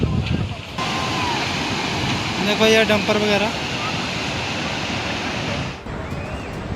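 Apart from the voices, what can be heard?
rushing floodwater of a swollen stream after a cloudburst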